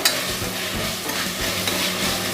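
Red chilli powder and coriander-cumin powder stirred into vegetables frying in oil for soya chunks biryani: a steady, loud close sizzle with a spoon scraping and turning through the pan, no voices.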